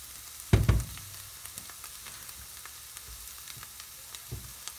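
Cream poured into beef heart frying in a pan makes a brief loud sizzle burst near the start that settles into a quiet, steady crackle, with a small flare near the end.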